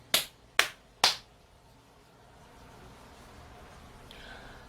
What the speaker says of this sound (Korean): 자, 박수 3번 치고.